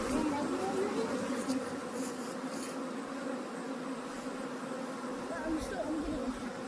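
A large honeybee swarm hums in a dense, continuous buzz that fills the whole stretch at steady volume, with faint voices talking underneath.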